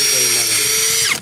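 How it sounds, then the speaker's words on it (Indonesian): APR AP34+ 13mm cordless impact drill boring into wood at speed 2, a loud, close, steady motor whine with a strained tone that winds down sharply at the end. "Untuk ngebor kayu torsinya lumayan bagus"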